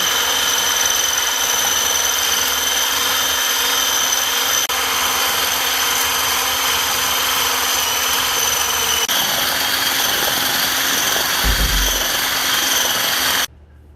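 Electric grinder running steadily while mixing coffee: a loud, continuous, high-pitched motor whine that holds for the whole stretch without pause, then cuts off abruptly at the end.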